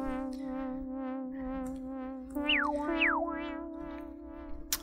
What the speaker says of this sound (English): when we have a high resonance and we change the cutoff frequency over time, we can have a kind of sweeping effect that sounds like this